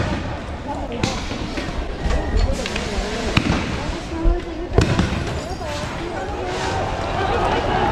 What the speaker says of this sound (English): The police returned fire with tear gas and rubber bullets.